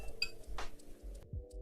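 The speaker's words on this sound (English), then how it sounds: "You can hear my fork clinking on it." A fork taps and clinks against a plate during a bite of food: a few light, separate metallic clicks, close and soft, with no talk.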